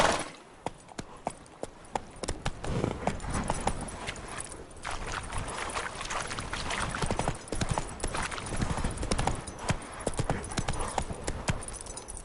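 Roach the horse gallops in The Witcher 3, hooves pounding in a fast, even rhythm close up after a sparse start, continuing to the end with faint game ambience.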